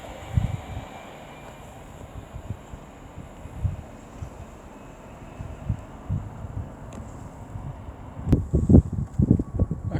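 A train passes on the West Coast Main Line at Marston Green, a flat wheel on a rear vehicle giving a rumbling run of low thumps that grows louder and more insistent toward the end.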